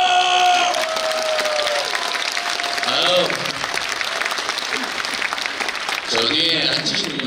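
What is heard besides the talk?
audience clapping at talk concert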